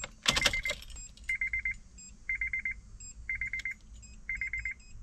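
Rhythmic electronic beeping in repeated bursts of rapid pulses from a Honda Acura Easy Key Maker key programmer, after a brief jangle of keys at the start, with a faint high tone between.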